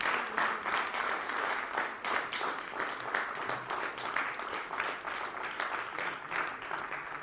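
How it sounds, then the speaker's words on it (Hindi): Steady applause from an audience at an award ceremony in Jaipur, honoring young people chosen to represent Rajasthan; dense, continuous clapping fills the space at moderate level without pause. "युवाओं के लिए तालियां बजती रहनी चाहिए।"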